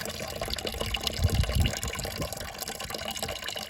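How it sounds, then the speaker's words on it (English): Water running steadily through a 600-foot coil of leftover water line dumped in a compost pile for geothermal heating, a continuous low gushing flow with a brief louder surge partway through. "we're continuing to run water through our 600-foot coil here."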